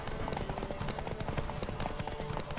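Horses gallop in a race in the video game The Witcher 3, a rapid, loud clip-clop of hooves drumming steadily throughout the short stretch, with no voices present.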